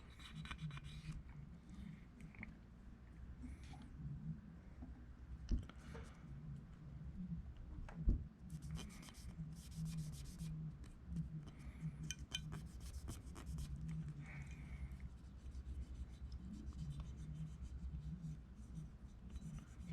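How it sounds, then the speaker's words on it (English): A Glock 19 pistol slide is scrubbed clean with a brush, giving soft, steady scratchy rubbing strokes, close but faint, with a few light clinks of metal. "Scrubbing down the barrel now, or not the barrel, the slide now."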